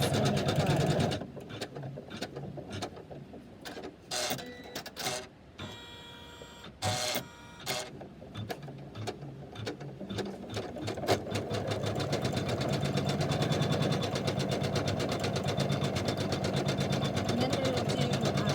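An embroidery machine stitches a snowman design, its needle clattering in irregular bursts at first, then settling into a steady, fast, mechanical rhythm.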